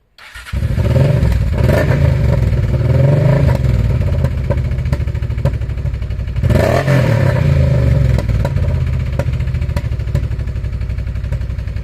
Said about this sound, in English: he repaired a very nice motorbike, as we can see now